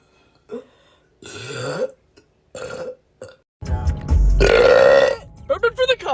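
A girl lets out a long, loud, bubbly burp up close, preceded by shorter bursts of talk and followed by more brief chatter.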